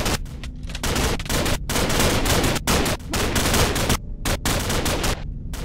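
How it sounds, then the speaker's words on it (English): Loud, dense bursts of rapid automatic gunfire in a Minecraft zombie-apocalypse battle, volleys overlapping almost continuously with a few brief gaps, close and with no talking. "Is it just me or those gunshots getting louder?"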